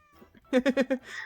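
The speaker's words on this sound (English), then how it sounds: "there's like a audio hint where you can hear the cats meowing" Short meows from a hidden cat in the Hidden Cats in Paris video game, four quick loud pulses in a row, close and clear over faint background.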